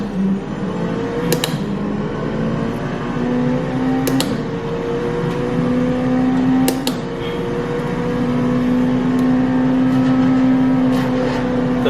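An LMP prototype race car engine in a sim racing game driven on a Moza FSR wheel during a fast lap, a loud steady high-pitched drone whose pitch sweeps up through gears with brief shift breaks, alone without talk.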